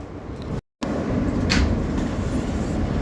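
A New York City subway Q train, running local toward Brighton Beach, rumbles steadily and close, with a brief dropout and a faint hiss partway through.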